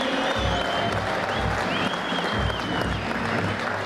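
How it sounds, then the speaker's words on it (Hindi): Steady, dense applause from a crowd at a Sikkim Police President's Colour award ceremony, with sustained clapping that holds at an even level throughout. "उनको हौसला बुलंद करने के लिए जोरदार तालियां, गड़गड़ाहट तालियों की गूंज से माहौल को और उत्साह से बनाने की कृपा करें"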